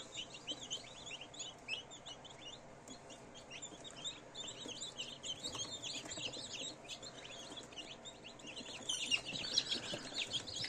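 Newly hatched chicks in a home incubator, some eggs still unhatched, peep and chirp continuously in a dense, high-pitched chorus, close by and moderately loud, with no voices over them.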